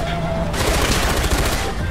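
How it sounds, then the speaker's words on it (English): Rapid bursts of gunfire in the video game Far Cry 4, shooting at a truck, crackle continuously, loud and dense, with a voice briefly audible underneath. "We're shooting the crap out of the truck."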